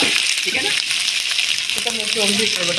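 Curry leaves drop into hot oil while cooking country chicken, giving a loud, steady sizzle and crackle that runs throughout, with faint voices beneath.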